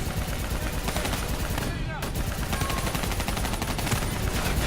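Dense gunfire crackles throughout a battle in the Black Ops 3 first campaign mission, rapid bursts packed together under loud combat noise.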